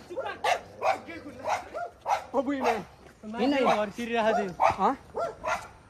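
A dog barks in short repeated bursts while a person talks loudly over it throughout.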